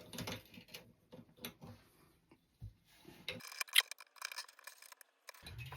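Guitar strings being unwound with a string winder, heard as close bursts of quick ratcheting, clicking and metallic rattles separated by short pauses, with one brief sharp jingle near the end.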